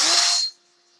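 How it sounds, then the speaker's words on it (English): A drill spins a barrel recrowning cutter against a rifle muzzle, a bright whirring hiss for about half a second before it stops abruptly, close and fairly loud. "I'm just letting the cutter do the work, just kind of the weight of the drill."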